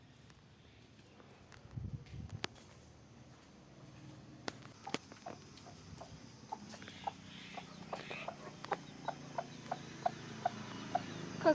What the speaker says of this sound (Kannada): ಕೋಳಿಗಳಿಗೊಂದು ಸ್ವಲ್ಪ ಮೇವು ಹಾಕ್ಬಿಡೋಣ